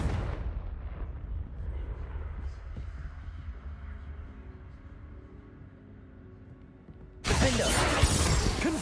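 Fire-spell blasts from the Confringo charm in Hogwarts Legacy: a low, rumbling explosive roar sustains over several seconds, then a sharp, much louder burst of crackling blast noise erupts near the end, close and dense.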